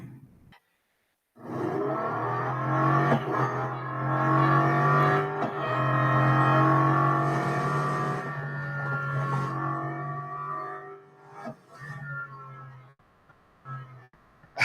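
A race car engine in the Real Racing 3 mobile game roars and revs steadily for several seconds, pitch climbing through gears, then drops off sharply as the car brakes, leaving a lower idle and brief quieter moments.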